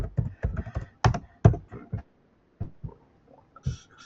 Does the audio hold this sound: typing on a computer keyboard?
yes